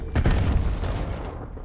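Incendiary grenade going off in Call of Duty Vanguard, a sharp heavy boom followed by a rumbling, crackling burn that fades over about a second.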